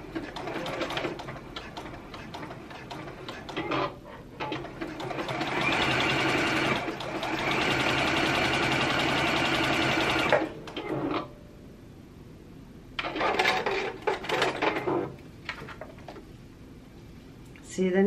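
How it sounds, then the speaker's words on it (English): A sewing machine sews another row of stitching on a bra in two long, steady whirring runs, close and fairly loud, with quieter gaps and some handling between them. "now another row of stitching"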